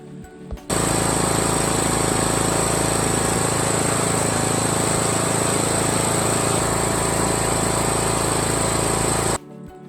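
A John Deere E100 lawn tractor engine cranks and catches, then runs loud and steady with a rapid, hammering clatter close up for about nine seconds before cutting off abruptly.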